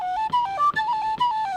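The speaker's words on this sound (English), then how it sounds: "They're sometimes called penny whistles." A penny whistle plays a short melodic phrase of bright, clear sustained notes stepping up and down, with breathy tongued attacks between them, close and fairly loud with no talk.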